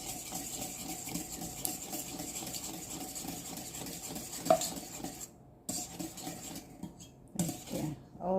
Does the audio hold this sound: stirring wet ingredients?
yes